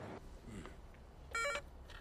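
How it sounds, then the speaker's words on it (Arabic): A telephone gives a short electronic ring, one brief bright tonal burst near the middle, set against quiet room sound in a dramatic indoor scene. "أمك على التليفون أحمد بيك."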